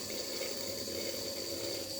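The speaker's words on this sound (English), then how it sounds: "the motor is working and the water is flowing through this" Water runs steadily through a small pipeline, pushed by a motor pump in a poultry-farm science model, as a faint, even rushing with a low hum and no voices.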